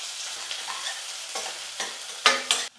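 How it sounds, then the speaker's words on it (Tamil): Garlic, curry leaves and onion sauté in a hot pan: a steady sizzle broken by several louder scraping stirs near the end, close and alone. "இப்போ அந்த பூண்டு சேர்த்துக்கிற கொஞ்சம் கருவேப்பிலை கொஞ்சம் வெங்காயம் ஒரு கைப்பிடி"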